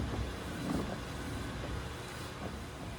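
New front wiper motor on a Mazda FD RX7 running at slow speed gives a steady, continuous whirring hum with a faint mechanical rumble, close and even throughout, with no talking.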